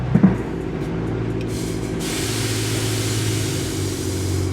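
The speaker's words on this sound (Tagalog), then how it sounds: "let's start by lifting up the car on its presets" Air suspension raising a bagged Nissan GT-R R35 to its preset height: a steady pneumatic hiss and hum runs throughout, with a couple of sharp clicks at the start and a brighter rush of air joining partway through.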